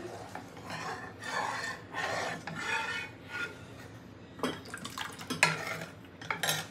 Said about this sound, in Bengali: পুরো দুধটা ভালো করে মিশিয়ে নেব